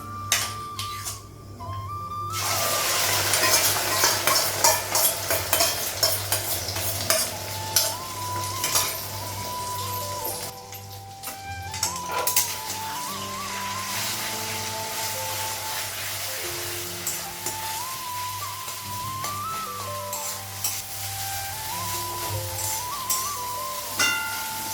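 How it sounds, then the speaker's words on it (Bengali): An egg with onion, green chilli, turmeric, salt and a little cumin powder fries in a pan on a gas stove. A spatula scrapes and clinks against the pan over a steady low sizzle and hum, with no talk. "তো ডিমটা ভাজা হয়ে গেছে"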